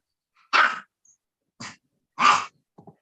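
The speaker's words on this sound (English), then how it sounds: "Bloody dogs." Dogs bark in short, separate yelps, four or five sharp barks spaced irregularly against an otherwise quiet background.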